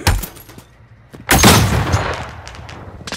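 Gunfire in Call of Duty: loud bursts of rapid shots crack out, first a short volley, then a heavy sustained burst that trails off into scattered echoing shots, with no talking.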